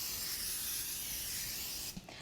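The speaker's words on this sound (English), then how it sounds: "Oh, let's spray the top." Cooking spray hisses steadily from a can over corn tortillas laid in a baking pan, a continuous close spray lasting about two seconds before cutting off, followed by a faint clink.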